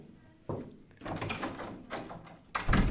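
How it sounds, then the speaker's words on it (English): A studio door is opened nearby with a clunk of the handle, then rustling, shuffling movement and a louder thump at the end. "If I can go open the door for him really quick."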